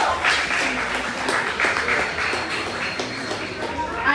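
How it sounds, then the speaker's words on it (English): An audience claps for the winners of a debate competition final, with a steady wash of hand claps lasting throughout at moderate volume. "Clap them, please."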